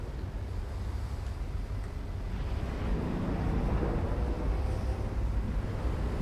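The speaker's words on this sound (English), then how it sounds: "I love that idling jet engine noise" Idling jet engine of a spaceship in Star Citizen, a steady, dense low rumble with a soft airy hiss on top, holding even and unbroken at moderate level with no voices.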